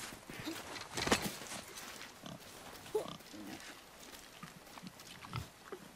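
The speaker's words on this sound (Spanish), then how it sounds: "Se escucha ahí un puerco, ¿no? Un jabalí." Wild boar grunting in the God of War video game, a few short snorting grunts scattered among game ambience and footsteps, moderately faint.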